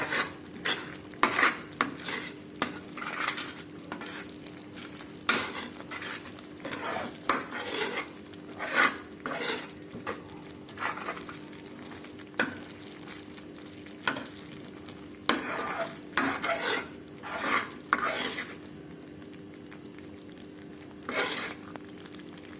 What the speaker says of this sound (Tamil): இதை ஸ்ப்ரெட் பண்ணி நல்லா கலரி விடணும்.